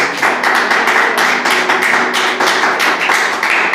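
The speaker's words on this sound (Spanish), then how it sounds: "Vamos a dar un aplauso al Señor" A church congregation claps together in a dense, continuous burst, many hands producing a loud, close, even patter of slaps with no speech over it.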